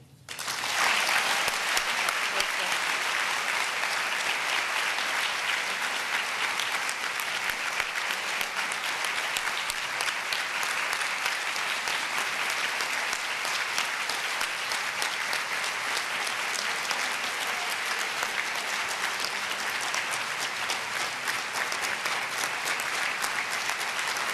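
Sustained applause from a large audience at a ceremony honoring International Women of Courage, steady and dense throughout, with no talking over it.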